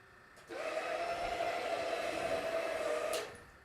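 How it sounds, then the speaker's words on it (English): A rotary floor machine for bonnet carpet cleaning switches on and runs with a steady, loud motor whine and hum for about three seconds, then cuts off abruptly. "That's a typical response of somebody turning on a floor machine for the first time."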